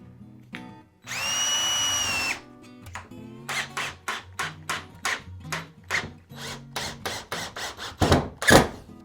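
A power drill drives number 6 by 1 5/8 inch screws into a wooden bench, with a long continuous whir followed by a rapid series of short bursts and clicks, close and moderately loud.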